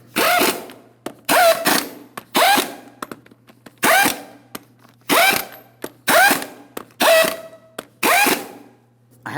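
Ratchet clicking on the 22mm lug nuts of a GMC Sierra 2500 HD rear wheel, close and loud, in about nine quick bursts of rapid clicks separated by short pauses, with no talk.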